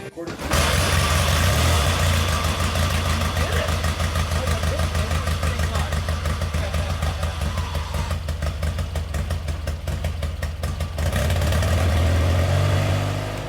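A motorcycle engine running steadily after a kick start, a loud close rapid mechanical chug that holds an even idle throughout, swelling slightly near the end.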